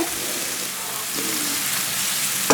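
Minced green onion and garlic stir-frying in a pan for a tomato, egg and tofu dish, giving a dense, steady, close crackling sizzle with no break and no voices.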